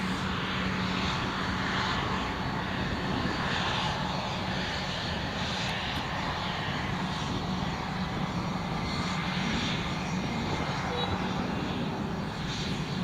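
A Loganair aircraft on a training flight roars steadily at Newcastle International Airport, a loud, continuous engine drone that never lets up, with faint voices mixed into the noise.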